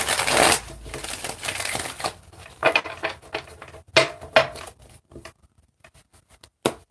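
Tarot cards being shuffled during a reading, a run of soft papery riffles and flicks that start dense and loud, then thin into scattered taps and brief bursts with quiet gaps.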